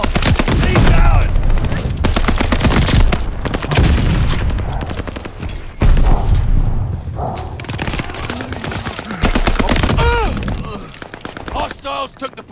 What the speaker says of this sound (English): Tossing a sticky bomb.